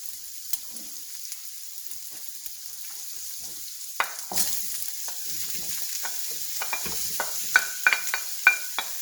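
Ground beef and vegetables sizzling in a pan for dirty rice, with celery, peppers, onion and garlic going in; a steady soft frying hiss with occasional spoon scrapes and clinks against the pan.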